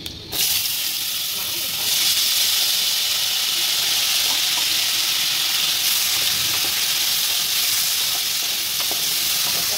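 Bean seeds sizzling loudly in hot oil in a pan just used for frying fish, a steady broadband hiss after a brief start that holds strong and even throughout.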